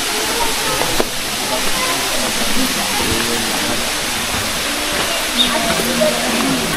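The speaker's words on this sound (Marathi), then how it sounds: "पाण्याचा आवाज तुम्हाला येत असेल," Hidden flowing water near a hillside Khandoba temple at Korthan, a steady broad hiss-like rush, with people talking quietly in the background.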